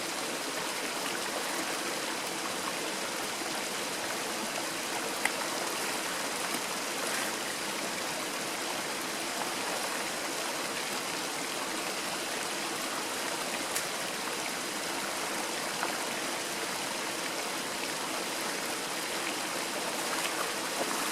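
Small stream running over a bed of small washed-in rocks, a constant even rushing and trickling of water, soft and steady throughout with no voices.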